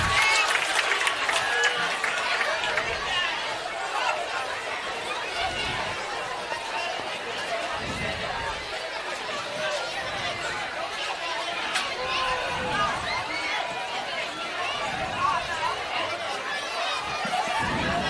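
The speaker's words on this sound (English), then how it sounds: "Crowd likes it." Crowd at a varsity high school football game between Holliston and Lincoln-Sudbury, a continuous hubbub of cheering, chatter and scattered applause heard from a distance, steady and moderately loud.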